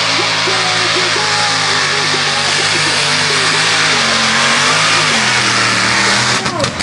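A powerful 1400-horsepower small-block Chevy engine in a Mini Rod drag car revs loudly and continuously, pitch rising and falling, with a sharp burst of mechanical crackle at the very end.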